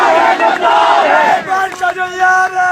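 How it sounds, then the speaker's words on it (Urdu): A crowd outside Lal Masjid chanting slogans against the Taliban, loud massed voices rising and falling in rhythmic bursts, close and continuous with shouted phrases overlapping. "لال مسجد کے باہر بھی لوگ طالبان مرد آباد کے نعرے لگا رہے ہیں"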